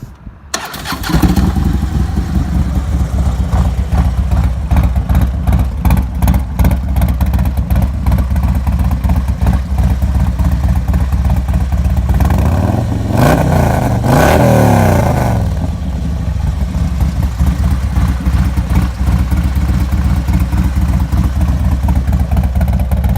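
A 2015 Harley-Davidson Road Glide with S&S cams, S&S high-flow air cleaner and 2-in-1 exhaust starts up and idles with a loud, lumpy V-twin rumble close by, then revs up briefly mid-way before settling back to a steady idle.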